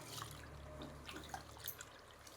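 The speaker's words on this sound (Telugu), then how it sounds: "దీనికి వచ్చే 5 గ్లాసులు నీళ్ళు పెడుతున్నామండి" Water pours and trickles into a cooking pot holding rice and lentils, a faint, close splashing with small drips over a quiet room hum.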